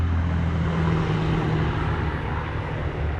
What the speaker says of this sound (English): Eventually we'll get away from the traffic